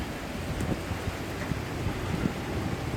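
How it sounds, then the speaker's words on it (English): Rain pours down in a small storm, a dense steady hiss of falling water with soft patters and some wind buffeting on the microphone, no voices. "Hey, it's raining, it's pouring."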